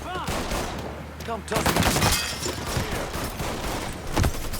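Rapid bursts of automatic gunfire in a Mafia III shootout, loud and close, with a short voice line spoken over the shooting.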